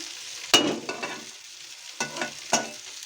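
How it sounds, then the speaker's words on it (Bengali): Water lily stems and prawns frying together in a pan, with a soft steady sizzle broken by a few sharp scraping stir strokes, close by and with no voices. "সেই শাপলা দিয়ে এই চিংড়ি মাছ দিয়ে ভাজি করছি"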